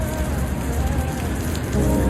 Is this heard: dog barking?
no